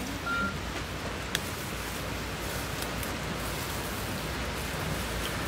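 Rain falling during a storm, with metal roof sheets blowing loose, heard as a steady, dense hiss of downpour that keeps an even level throughout, without talking.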